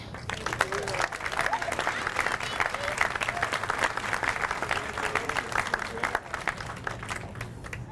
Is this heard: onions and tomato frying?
no